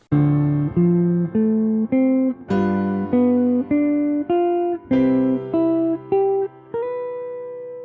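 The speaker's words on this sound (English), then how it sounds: "so just playing the chord tones over the 2-5-1 in C," Clean jazz guitar plays a steady run of single notes and chord tones over a ii-V-I in C, each plucked and sustained in an even rhythm with no voices.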